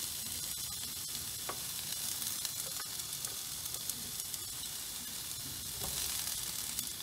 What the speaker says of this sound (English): So I'm gonna fry onion first.